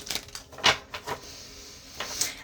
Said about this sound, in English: get a couple good shuffles